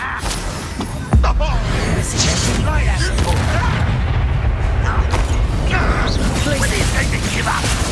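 A Confringo spell explosion bursts in Hogwarts Legacy with a sudden loud boom, then crackling, whooshing combat noise continues under a voice.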